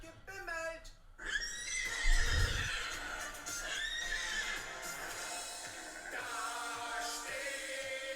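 A horse whinnying within a Cologne carnival song about a horse standing in the hallway, a loud drawn-out neigh near the start over music, with singing and clip-clop hoofbeats continuing through the recording.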